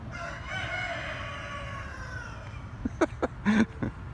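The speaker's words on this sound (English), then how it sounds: "That's just cock-a-doodle doing somewhere over here." A rooster crows outdoors on a foggy morning: one long, distant cock-a-doodle-doo rising over a steady hum of background noise, followed by a few short, closer clucks and squawks near the end.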